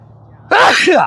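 A single loud, close sneeze bursts out abruptly after a moment of quiet, with a sharp onset and a brief trailing release.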